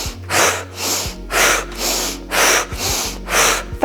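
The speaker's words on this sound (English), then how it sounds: "Sharp inhale through the nose," Sharp breaths in through the nose and out through the mouth repeat rhythmically, about seven forceful cycles in four seconds, loud and close during a fire flow yoga core workout.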